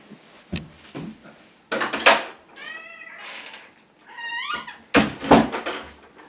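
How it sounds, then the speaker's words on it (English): A cat meows several times between thumps and rattles of a door being pushed and knocked, fairly close and loud. "My cat is trying to break into the door again."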